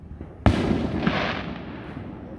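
A fireworks show, with one sharp loud burst followed by a crackling, rolling rumble that slowly fades, some smaller pops heard beforehand at a distance.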